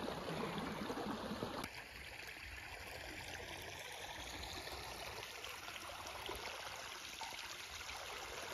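Water flows steadily through a dam in a drainage ditch, a continuous close rushing and trickling stream, louder for the first moment and then an even, unbroken flow with no talk.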